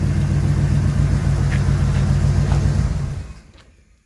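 Engine of a 1980 Chevy K10 truck rumbles at a steady idle up close, its low throb fading out as it shuts off in the last second.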